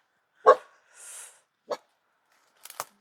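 Dogs bark in short, separate bursts outdoors near a forest, first a loud close bark, then a yip and more barks that trail off.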